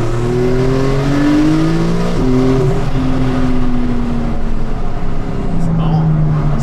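A Porsche 911 991.2 GTS with a turbocharged engine pulls at full throttle, its revs climbing in long rising sweeps with brief drops at gear changes. The engine note stays loud and close throughout, and a voice talks over it.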